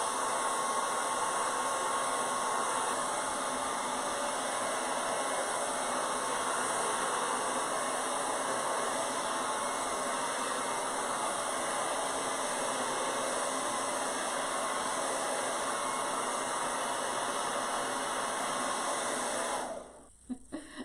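A hair dryer blows hot air to dry paint on a hand-painted baseball-themed door hanger, a steady loud whooshing hiss that runs continuously for about twenty seconds before switching off abruptly near the end.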